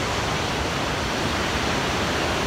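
Niagara Falls thunders in a steady, dense roar of falling water, loud and unbroken throughout with no voices.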